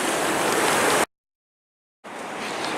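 Surf rushes on the beach at Bandon, Oregon, a loud broadband wash of breaking waves that cuts to silence for about a second, then resumes.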